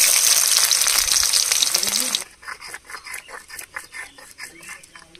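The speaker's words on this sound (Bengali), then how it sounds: "পেঁয়াজগুলো লাল লাল করে ভেজে নিয়েছি" Chopped onions fry in hot oil with dried red chillies and whole cumin, a loud dense sizzle for about two seconds, then dropping to softer, pulsing crackles.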